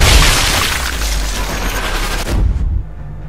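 A loud burst of rapid gunfire in the video game Sniper Elite 3 crackles and booms for a couple of seconds, then cuts off abruptly into near silence.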